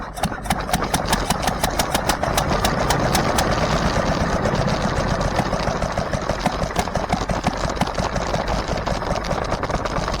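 A stationary International LB engine with a throttle governor fires and keeps running, producing a loud, steady chugging with rapid, regular firing pulses close by.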